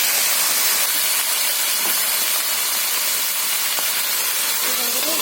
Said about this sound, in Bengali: কড়াইতে ওই তেলের মধ্যে আমি এই ডাঁটা আলুটা দিয়ে ভেজে নেব